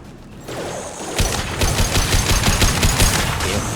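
Weapons fire in a Mass Effect 2 firefight: after a short lull, loud rapid bursts of automatic gunfire rattle on steadily and close by, with brief shouting at the start.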